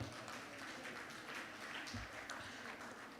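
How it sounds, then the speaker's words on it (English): An audience at a Nigerian church live-stream event applauding a husband, with steady, moderately distant clapping throughout and faint voices in the background. "Can we applaud the husband one more time?"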